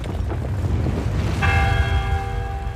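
A single deep church bell stroke rings out midway through a low rumbling ground tremor, its bright metallic overtones sustaining and fading slowly, loud and close in a French folk-tale audio drama.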